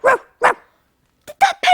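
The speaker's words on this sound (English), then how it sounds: "Did that pencil case just bark?" A small dog barks from inside a furry pencil case, two sharp yaps followed by a quick burst of three more, loud and close with clear gaps between.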